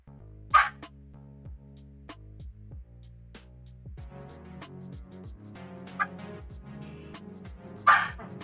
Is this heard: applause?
no